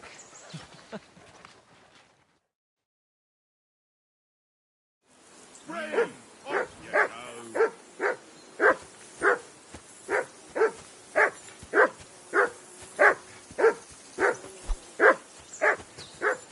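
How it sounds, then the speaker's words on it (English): A dog at a riverbank camp barks in a steady, rhythmic run of sharp yelps, loud and close. A brief fainter voice-like sound and a short silence come before the barks. "Do something with that mutt, Henry. It's doing my head in."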